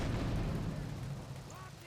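A bomb blast in GTA 3 with rain falling lands as a loud, low rumbling boom that slowly fades over a couple of seconds, and a voice speaks over it.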